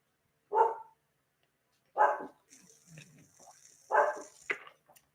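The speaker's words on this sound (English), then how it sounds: "I don't know what they're barking at." A household dog, normally quiet, lets out three sharp separate barks spaced a second or so apart, with softer whimpering and rustling noises between them and no talking.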